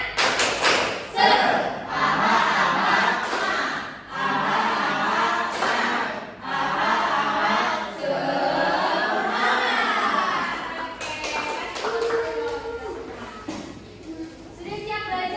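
A classroom of children chants and claps the rhythmic tepuk semangat cheer in unison, with loud voices over rhythmic thumping claps and short pauses between phrases.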